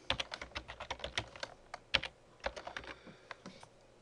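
Rapid typing on a computer keyboard, a close run of crisp, uneven clicks with brief pauses between bursts of keystrokes, no talking.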